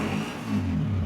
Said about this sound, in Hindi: जो होंडा मेरे दिल को लगता है, उसका मेरा दिल कहता है मैं आपको उसका इंजन भी चेक कराऊं। हाय हाय क्या साउंड है।